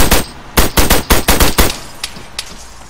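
Close, loud bursts of automatic gunfire in a multiplayer Arma 3 military shooter session: two or three rapid volleys of cracking shots, then a few scattered single reports trailing off, with no talking.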